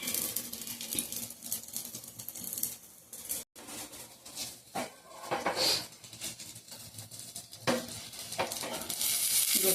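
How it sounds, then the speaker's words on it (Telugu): Pesarattu with onions sizzles in oil on a pan, a steady crackling fry broken by scraping and clinking of a utensil against the pan, with no talking. "ఉల్లిపాయలు వేసిన తర్వాత ఆయిల్ పోతున్నానండి పైన."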